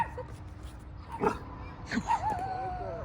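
An excited dog lets out a few short yips and whiny barks during a handling and down training session, close by, with some background noise between the calls.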